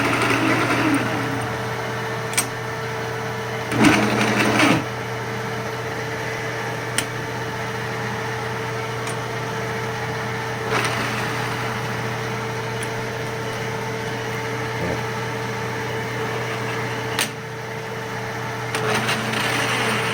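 A Kearney and Trecker 2HL universal milling machine with a sticking clutch runs at a steady mechanical hum, with occasional knocks and clunks from the drive over the drone.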